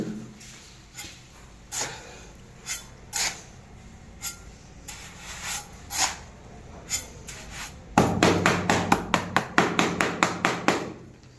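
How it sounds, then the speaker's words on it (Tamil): Floor tiles are tapped into place during tile laying, with scattered sharp knocks early on, then a rapid, even series of close, loud taps near the end. "இப்போ நடுவில் ஓடு வைக்கிறோம்"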